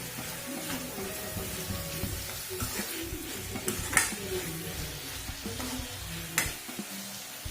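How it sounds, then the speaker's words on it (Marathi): Chana dal and onion sizzling in a pan while being stirred for Nagpur-style Savji dal kanda, a steady frying hiss with scraping stirs and occasional clinks of the utensil against the pan. "मिक्स करून घ्यायचं डाळ आणि कांदा"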